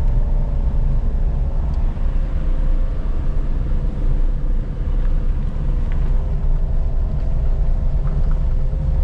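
A car arrives and is being parked at the base of Rasalgad fort in Khed, Konkan, its steady engine rumble and road noise loud and close throughout with no talk.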